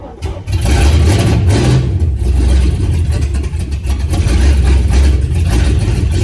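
A 1965 Plymouth Satellite engine without choke catches on a 28-degree cold start, then runs loud and rough, revving and surging continuously up close with a heavy low rumble.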